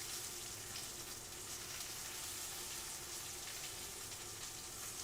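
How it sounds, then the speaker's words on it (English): Continuous crackling sizzle of porterhouse steak frying in a pan, steady and close, with no talking. "Oh, so you guys can hear the sizzle?"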